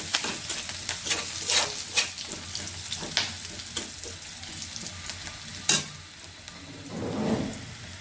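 Food sizzles and crackles in frying oil at close range, with repeated sharp stirring scrapes and clinks over the hiss and a louder surge of bubbling toward the end.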